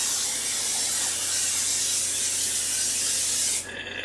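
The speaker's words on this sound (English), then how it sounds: "I'm going to spray that ahead of time." Cooking spray hissed into a muffin pan in a kitchen, one long continuous close-up spray lasting several seconds before cutting off abruptly.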